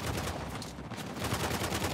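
Rapid gunfire in the video game Uncharted: The Lost Legacy, a fast rattle of repeated shots running almost without pause, briefly easing midway before picking up again.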